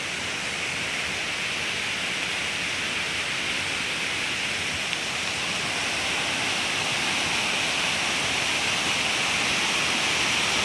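Steady, dense rush of the Katulkasa waterfall in the Keshkal area of Kondagaon, Chhattisgarh, loud and continuous throughout with no voices or breaks.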